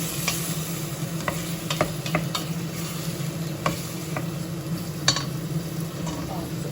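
Meat for forest kebab sizzles in a hot pot as a spoon stirs and clinks against the metal in scattered strokes, one sharper knock standing out, all heard up close without speech.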